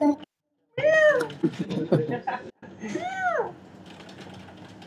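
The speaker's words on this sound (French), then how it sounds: "Il est où le chat?" A cat meows twice, fairly close, with rising and falling cries separated by a short pause, while people talk around it in French.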